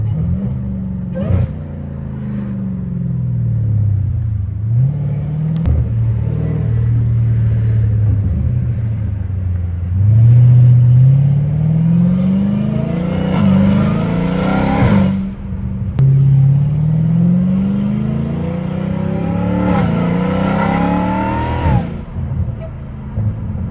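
Repeated loud revs from a straight-piped Dodge Hellcat Redeye rise and fall in several long sweeps, each climbing to a high-pitched peak before dropping back, with heavy echo around the exhaust.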